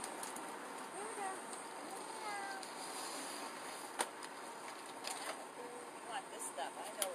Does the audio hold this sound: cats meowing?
yes